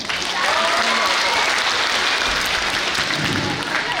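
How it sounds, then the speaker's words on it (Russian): A hall audience at an award ceremony for a children's folk dance festival applauds steadily, a full, continuous wash of clapping with a faint voice briefly underneath. "позвольте предоставить слово Эльдану Халидаровичу под ваши аплодисменты"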